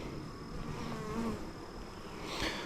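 Honey bees buzzing softly during a hive inspection, a faint steady insect drone with a slight swell near the end, no voices.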